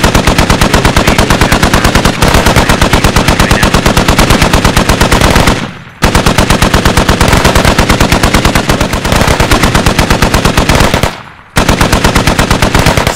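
Automatic gunfire in a squad-based military shooter game: loud, rapid machine-gun bursts hammering in long rhythmic strings, broken by two brief pauses before firing resumes, very close and dominant.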